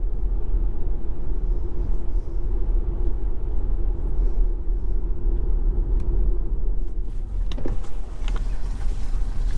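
A Tesla fitted with snow socks and all-season tyres creeps slowly through snow with a loud, steady low rumble, and a few crunching knocks come near the end.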